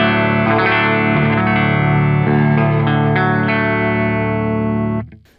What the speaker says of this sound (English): here we've got the Matchless 30, very clean amp, and I cleaned it up with the parametric